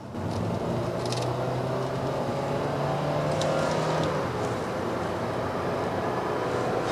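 A 2017 Kia K3 (Forte) 1.6 GDI engine drones steadily in sport mode while climbing a hill, a low, sustained hum that rises slightly in pitch, heard from inside the car with faint clicks.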